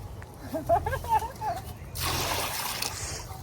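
A freshly hooked fish of about 2.5 kg thrashes and splashes in water after being caught on a hook line, a burst of wet splattering beneath people talking nearby.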